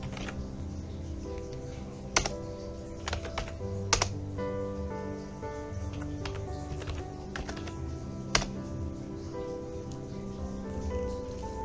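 Someone types a sudo command on a computer keyboard: steady, close key clicks with several louder, sharper key strikes, under a constant low hum, with no voices.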